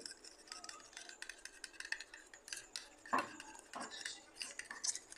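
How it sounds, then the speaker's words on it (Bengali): Egg mixed with salt, cumin, coriander, chilli and red chilli powder is beaten in a bowl, making rapid, quiet clicking and tapping of a utensil against the bowl, close up, with no talking. "এটাকে আমি খুব ভালো করে ফেটিয়ে নেব।"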